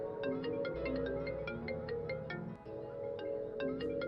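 A mobile phone rings with a repeating electronic melody at a steady rhythm, fairly faint and continuous, with a brief dip in the middle.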